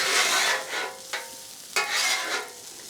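Hash browns fry in oil on a flat griddle, a steady loud sizzle with a couple of sharp scraping spatula strokes cutting through, close and without talk.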